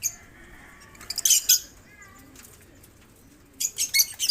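Bird calls sound out over a quiet background: a few sharp bursts, then wavering mid-pitched notes, and more bursts near the end.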